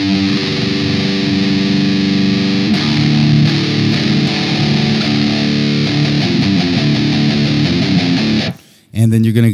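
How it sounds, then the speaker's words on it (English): Electric guitar played through heavy distortion in drop D tuning, loud sustained chugging chords and riffs running steadily for several seconds before a brief drop near the end. "Get yourself some nice distortion that,"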